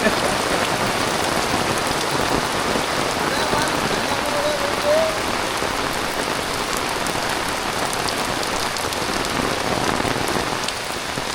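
Steady, heavy rain pours down close by in hills, a dense continuous hiss of drops on surfaces that never lets up, with faint voices beneath.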